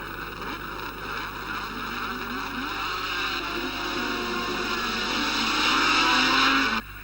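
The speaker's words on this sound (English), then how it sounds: "It's all smoke and horsepower off the grid" Race cars accelerating off the starting grid of a one-mile circuit in the 1976/77 Marlboro Series, a dense loud roar of several engines swelling steadily over seven seconds before cutting off abruptly.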